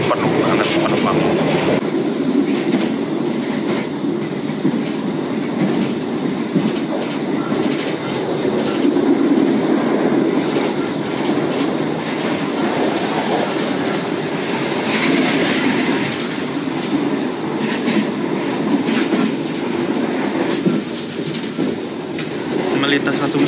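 The Argo Semeru passenger train runs through Brambanan station without stopping, a loud, continuous rumble of rolling wheels and rhythmic clickety-clack on the rails, close by and sustained for the whole stretch.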